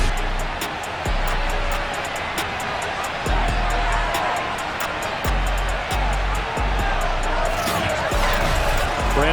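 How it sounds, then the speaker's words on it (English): A stadium crowd at a Philadelphia Eagles at Washington football game in a video game keeps up a steady roar, with repeated low thumps and rising cheers near the end under commentators talking. "this crowd is ready to go"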